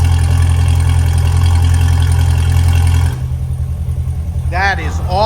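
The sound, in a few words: Chevrolet C8 Corvette engine through titanium valved exhaust, valves open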